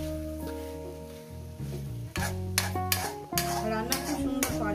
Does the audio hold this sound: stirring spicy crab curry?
yes